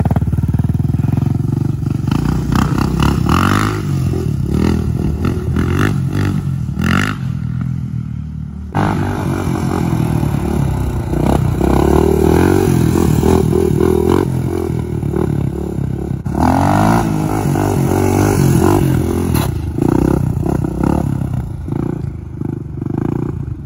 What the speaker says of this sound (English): let me pop a wheelie right quick, bro